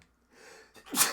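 A single sharp sneeze sounds up close, with a short breathy intake before it and then a loud burst of air.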